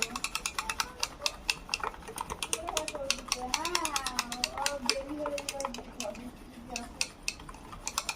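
A whisk clicks rapidly against a bowl while strained yogurt is beaten, a steady run of sharp metallic taps up close, with a voice speaking underneath.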